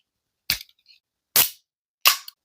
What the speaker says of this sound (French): je vais ouvrir la canette en mode ASMR